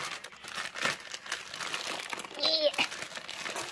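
A plastic bag of Peppa Pig puzzle pieces crinkles and rustles as it is handled and torn open, close-up, with scattered soft voices around it.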